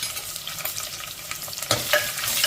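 Sliced small onion, garlic and broken dried red chillies fry in oil in a clay pot, crackling and sizzling close by with scraping stirs and a louder burst of sizzle partway through.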